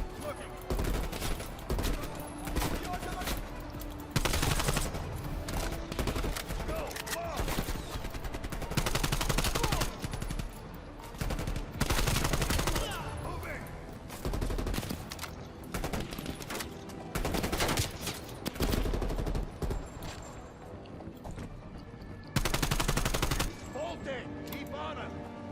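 Video game gunfire in Call of Duty Black Ops: dense, loud bursts of automatic and rapid shots come in repeated volleys throughout, with a voice speaking beneath the shooting.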